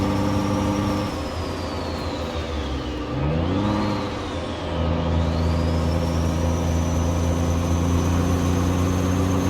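A Cummins Big Cam engine in a Kenworth W900 in American Truck Simulator drones steadily, its pitch dipping and rising through a gear change, loud and close with no talking.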